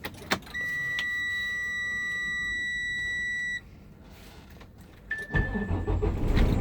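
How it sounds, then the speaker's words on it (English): Beeping warning chimes sound for a few seconds after a key turn in a truck cab, then a short tone as the engine cranks and catches into a loud idle rumble. "you can go ahead and do a safe start. Your clutch, turn the key."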